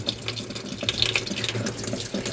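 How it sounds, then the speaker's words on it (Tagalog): An old washing machine fills with water, a steady faucet-like flow and light splashing running throughout under a low hum, with no talk. "Ayun, nagkarga ng tubig."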